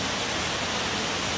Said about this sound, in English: Jadi itu dia air terjunnya, the waterfall.